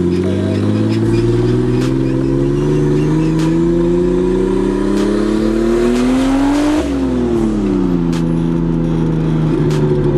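A Nissan S13 with a swapped RB engine from an R33 GTS-T, around 280 hp at the wheels, drifts under sustained loud revving, pitch climbing steadily then dropping and rising again as the throttle is worked, with no talk.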